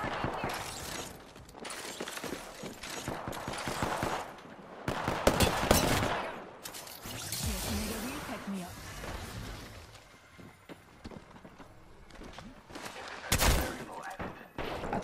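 Gunfire in a shooter video game comes as repeated bursts of loud, close shots with sharp impacts and shattering crashes, broken by short lulls, and a voice talks now and then.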